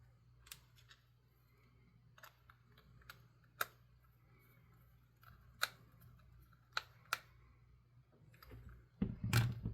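Game Boy game cartridge plastic shell being handled and closed, a series of sparse sharp clicks and taps up close in a quiet room, ending in a louder snap and rustle.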